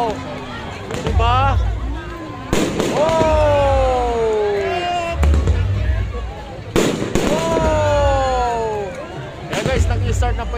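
New Year fireworks bursting over the seaside at a Manila bay-area mall, with repeated loud booming explosions and crackling, rising whistles between blasts, while an excited crowd chatters throughout.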